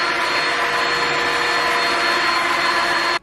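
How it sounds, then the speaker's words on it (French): A Prosenic F10 vacuum cleaner runs loud and close with a steady high whine and airy roar, then cuts off abruptly near the end, with no one talking. "Je vous ai même pas donné le nom de l'aspirateur mais c'est le F10 de chez Prosenic"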